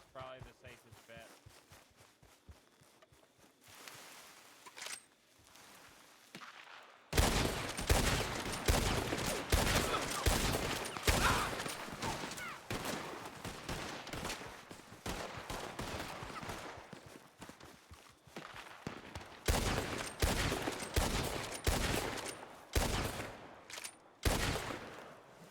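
Rapid gunfire crackles through a Red Dead roleplay shootout in a video game, dense bursts of shots after a quieter opening, with voices calling out among the volleys.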